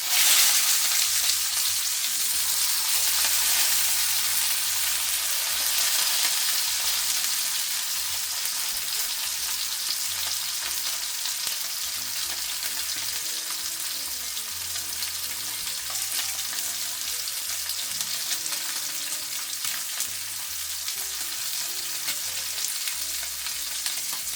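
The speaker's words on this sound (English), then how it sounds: "I'm going to put them in the cast iron and get a nice sear on them" Steaks searing in a hot cast iron pan, a loud continuous sizzle and crackle of frying meat that holds steady throughout with no talking.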